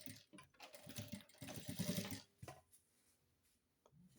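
A sewing machine stitches along the side of a suede pouch in short, rattling bursts. The runs stop and start, then trail off into quieter handling noise.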